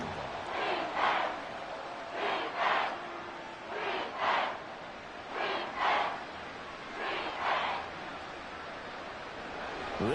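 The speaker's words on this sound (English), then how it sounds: "This crowd doing all they can." A football stadium crowd roars in rhythmic paired surges that rise and fall about every second and a half, like a chant, heard from a distance over a constant low murmur.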